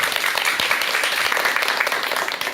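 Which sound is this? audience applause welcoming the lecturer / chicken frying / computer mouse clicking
audience applause welcoming the lecturer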